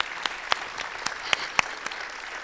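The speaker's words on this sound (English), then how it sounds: "So let's give Sam a great round of applause" Sparse, scattered clapping from a tech conference audience at a closing and prizes session, a handful of distinct claps spaced out over a couple of seconds rather than a full ovation.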